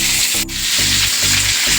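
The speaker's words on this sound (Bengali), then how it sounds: "এবার পটলগুলোকে আমি ভেজে নেব।" Pointed gourd (potol) pieces fry in hot oil in a wok, giving a loud, dense, steady sizzle with a short dip partway through and no voices.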